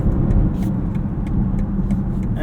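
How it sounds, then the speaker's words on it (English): A 2024 BMW X6 M60i engine pulls hard under steady acceleration, its deep continuous drone briefly punctuated by quick ZF 8-speed automatic upshifts, heard from inside the cabin at close range. "Super quick shifts there from that ZF 8-speed auto."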